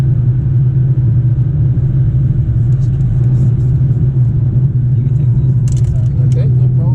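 A car lapping the Nürburgring on a private track day, its engine a steady, loud droning rumble throughout with a few faint higher clicks near the end; no one speaks.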